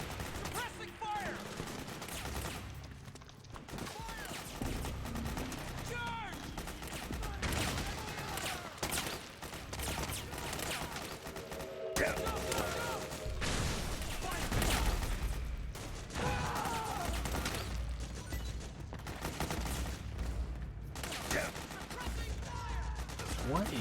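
Dense bursts of automatic gunfire and scattered shots fill a Metal Gear Solid 4: Guns of the Patriots battle, sustained and loud throughout, with game voices calling out in between.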